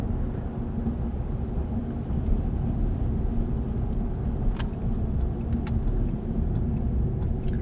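2025 Ram 1500 Rebel pickup with a Hurricane turbo inline-six, driving in two-wheel drive, heard as a steady loud low road and engine rumble from inside the cab, with faint clicks on top.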